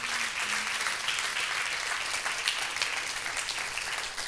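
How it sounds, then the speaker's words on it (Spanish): A church congregation applauds during a sermon, a sustained broad roar of many hands clapping together, steady and fairly loud throughout. "Denle un fuerte aplauso al Rey bendito"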